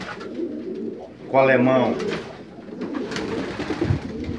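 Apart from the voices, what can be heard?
pigeons cooing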